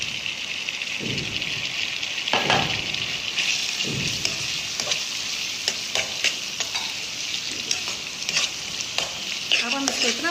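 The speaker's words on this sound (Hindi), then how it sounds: "देखिए हमारा चिकन भी इसके अंदर फ्राई हो रहा है और हमारा मैदा भी इसके साथ।" Chicken pieces fry in oil with flour in a pan, a continuous bright sizzle broken by repeated scraping sweeps and knocks of a spoon stirring, close and fairly loud.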